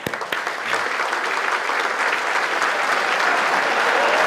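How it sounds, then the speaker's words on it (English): A conference audience claps together in unison, scattered first claps quickly swelling into loud, steady, continuous applause that holds to the end. "So can you go ahead and all start clapping?"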